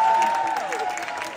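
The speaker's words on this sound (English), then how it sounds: "Everybody give her a round of applause" A brief burst of audience applause, steady clapping under a faint sustained tone, with a light crowd murmur.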